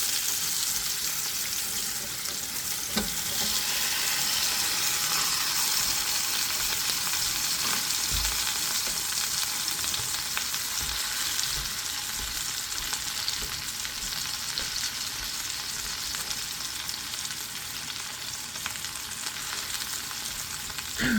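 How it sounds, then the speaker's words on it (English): Potatoes frying in a pan with sausage and onions, a loud, dense, continuous sizzle that holds steady from start to finish with no voices. "we're going to put these potatoes in here and let it cook"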